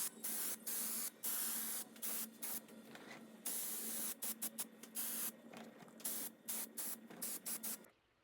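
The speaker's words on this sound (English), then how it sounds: "My next step is a coat of my Rust-Oleum primer in flat white." Rust-Oleum flat white primer sprayed from an aerosol can in repeated hissing bursts of varying length, close and loud, with brief gaps between pulls and a steady faint hum underneath.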